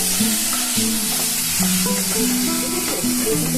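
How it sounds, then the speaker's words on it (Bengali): Spices for khichuri fry and get stirred in a hot pan, giving a steady, close hiss of sizzling oil with occasional stirring scrapes and a faint melodic background throughout. "মশলা আমি একটু ভেজে নিলাম"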